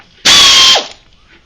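A ratchet loosens the fuel pump cover bolts on a 327 engine during a teardown: one loud, close mechanical whirring burst of about half a second, then quiet.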